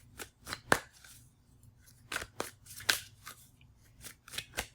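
Tarot cards are shuffled by hand in short crisp riffles and taps, an uneven run of sharp papery flicks with pauses between, close and quiet, no speech.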